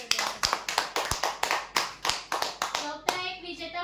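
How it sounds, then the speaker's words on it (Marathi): Applause for a prize winner at a lucky draw event, a crowd clapping in quick, uneven bursts close by, fading out near the end, with faint voices in the background. "जोरदार टाळ्या।"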